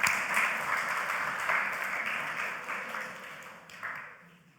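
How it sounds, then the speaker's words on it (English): An audience at a church talk applauds, a moderate wash of clapping that holds steady and then tapers away, with a brief swell just before it fades to quiet. "Everyone give Geordie a round of applause."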